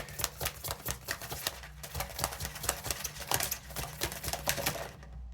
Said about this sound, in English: I can't shuffle this deck enough